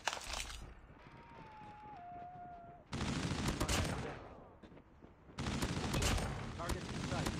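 Sentry gun in a Call of Duty match fires loud sustained bursts of automatic gunfire, two long volleys separated by a brief lull, with in-game voice callouts and battle noise around them.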